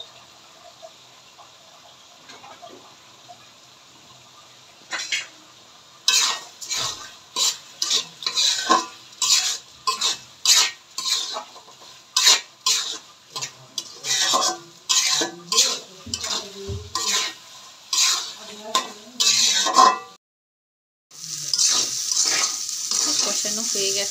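Kalojira rice stirred into fried spices in a pan, a spoon scraping in quick repeated strokes over a soft sizzle, with a louder burst of frying near the end.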